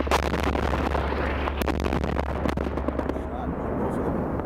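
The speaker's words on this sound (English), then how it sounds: "he had dropped his first JDAM on the target" A 2,000-pound JDAM bomb dropped by an F-16 detonates on a target building in combat, filling the clip with a loud, sustained, rumbling blast roar with scattered sharp cracks.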